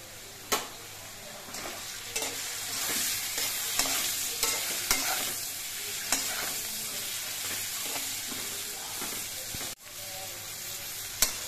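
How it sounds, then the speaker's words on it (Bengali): Steady sizzling of potatoes frying in a pan with turmeric and green chillies, with repeated scraping and clinking of a spoon stirring at irregular intervals throughout. "আলুগুলো কিন্তু অনেকটাই ভাজা হয়ে গেছে।"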